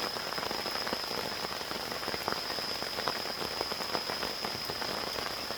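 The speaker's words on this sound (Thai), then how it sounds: "วันนี้ฝนตกบรรยากาศเย็นเลยนะครับสดชื่นมากๆเลย" Rain falling in a forest camp during a storm: a dense, steady patter of drops on surfaces with scattered sharper taps, continuous and fairly loud, with a faint high insect-like whine running through it and no voices.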